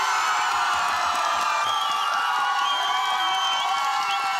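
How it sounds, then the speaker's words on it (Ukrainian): An outdoor karaoke audience on a public square cheers and whoops in a dense, continuous wall of noise to back a singer, with a few claps mixed in. "Хто вважає, що далі повинен співати Сергій Гумен і оплески Сергію?"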